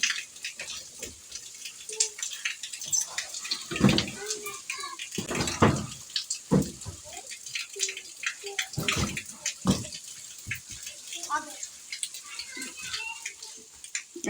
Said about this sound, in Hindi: यहाँ पे जो ना पानी भरना शुरू हो गया है।